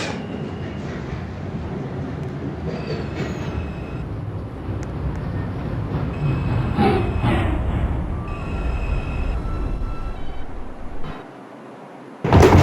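A Woodlawn-bound New York City subway 4 train runs between stops with a continuous loud rumble and rattling wheel noise, a brief screech in the middle, then a sudden drop near the end.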